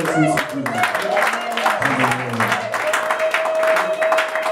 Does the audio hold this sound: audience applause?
yes